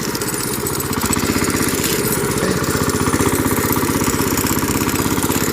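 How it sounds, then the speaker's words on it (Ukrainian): A walk-behind tractor's engine chugs steadily at a medium pitch, straining through deep snow on tractor tires with a rapid throbbing rhythm, close by and fairly loud throughout. "І мотоблокові важко їхати."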